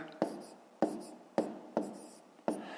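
Five evenly spaced pen or chalk strokes tap and scratch while numbers are written out for column multiplication in a fifth-grade math lesson, each stroke a sharp onset fading quickly.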